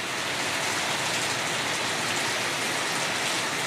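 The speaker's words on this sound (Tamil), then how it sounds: "அவ்வளவு மழை பெய்யுது பாருங்கள் எவ்வளோ மழை பெய்யுது" Heavy rain falls without pause, a dense and even hiss of countless drops striking surfaces nearby, loud and unbroken, with no voices.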